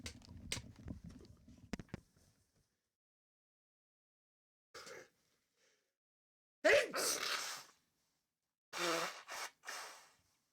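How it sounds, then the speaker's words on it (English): A person playing a VR racing game gives a loud, forceful sneeze after a stretch of faint breathing and rustling, followed by a couple of short breathy exhales. "I need to have a serious sneeze."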